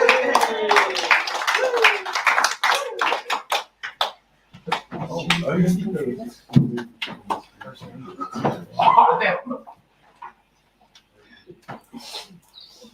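Audience at an AI and VR production event gives a short burst of applause for an incoming speaker. The clapping is heard briefly under talk at the start, and speaking follows.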